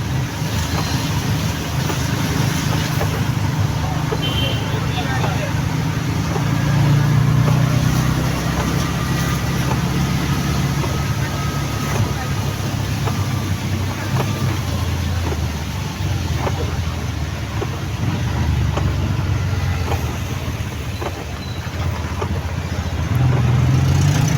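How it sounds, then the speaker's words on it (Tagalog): Busy city road traffic rolls past a tricycle driver, a continuous rumble of engines and passing vehicles with gusts of wind noise, steady and close throughout. "Traffic."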